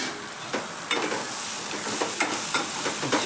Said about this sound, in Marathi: 2 मिनटं भाजून घ्यायचा हा, जेणेकरून तो मसाला भाजला जाईल